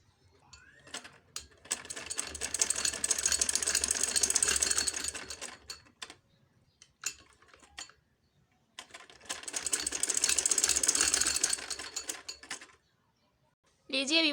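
A sewing machine stitches a zip onto a kurti in two long, loud runs of rapid mechanical whirring. Brief pauses come between the runs, with small clicks and handling sounds.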